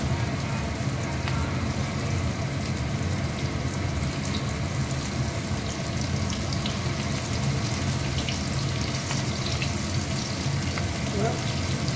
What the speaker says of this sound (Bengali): তেল গরম হয়ে গেছে, এবারে এক এক করে মাছগুলো ভাজবো।